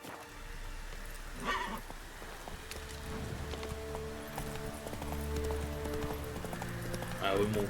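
Horse hooves clip-clop in a steady galloping rhythm in The Witcher 3, close and continuous, with someone talking over them.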